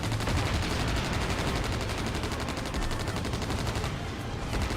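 Rapid gunfire rattles in the Wings of War aerial combat game, a dense, continuous burst of shots that keeps up a fast steady rhythm for several seconds with no voices over it.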